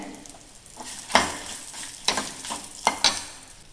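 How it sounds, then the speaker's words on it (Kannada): Garlic frying in a pan on a home stove, a soft steady sizzle broken by a few brief louder scrapes or stirs, close and alone with no talk. "ಒಂದಿಷ್ಟು ಬೆಳ್ಳುಳ್ಳಿನ ಹಾಕ್ತಿದ್ದೇನೆ ಇದು ತುಂಬ ಹುರಿಬೇಕು ಅಂತ ಇಲ್ಲ ಚೂರು ಬಾಡಿದರೆ ಸಾಕು"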